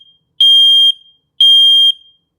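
A Nest Protect smoke alarm sounding its smoke-test alert: two loud, steady, high-pitched half-second beeps about a second apart, near and alone with silence between them.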